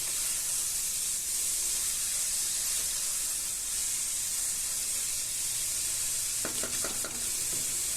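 Beans and vegetables fry in a pan for vegetable kurma, a constant close sizzle and hiss, joined near the end by a few quick clattering stirs.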